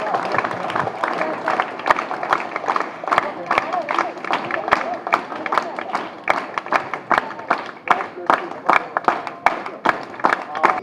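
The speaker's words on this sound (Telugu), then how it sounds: "claps go continuously" Continuous applause from an audience at a felicitation during a student speech event, dense clapping with scattered louder individual claps throughout, steady and fairly loud with crowd murmur underneath.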